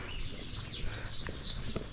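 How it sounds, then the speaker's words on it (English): Birds chirp and call on a large university campus, a few short tweets rising over steady outdoor background noise, fairly distant and faint, with no one talking. "Yeah, we have birds here."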